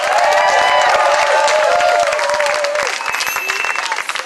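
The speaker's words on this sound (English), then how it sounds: "Clap it up for the future generation, y'all." A crowd claps and cheers at a street protest march for abolition in New York City, dense rapid clapping with shouts and whoops over it, loud and close, thinning slightly toward the end.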